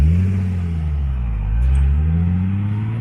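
A car drifting with handbrake and full throttle, its engine droning and rumbling steadily nearby with rising and falling revs, loud and close with no talk over it.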